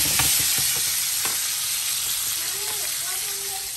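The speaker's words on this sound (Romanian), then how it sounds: "Sfârâie bine." Food frying in a pan gives a steady, fairly loud sizzling hiss throughout, with a few clinks of stirring near the start and faint voices in the background.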